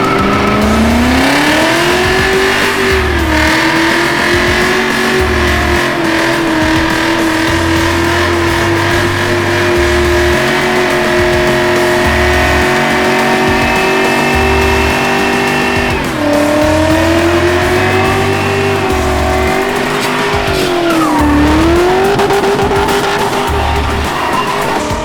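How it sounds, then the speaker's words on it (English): A BMW doing a burnout, the engine roaring loudly at high revs with rising and falling pitch while tires squeal continuously, sustained close and intense throughout with no talking. "does this car do a burnout?"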